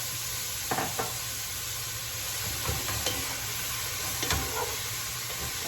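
Peppers, about two cups, frying without oil in a pan, with a steady background sizzle and a few sharp stirring scrapes and knocks scattered through, no voices.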